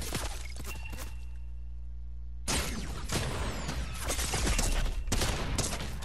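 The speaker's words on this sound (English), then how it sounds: "Oh, you have a shotgun. That's right, I hit that" Shotgun blasts in the video game Fortnite, a burst of loud, sharp shots after a quieter stretch, continuing in repeated close bangs with clattering game effects.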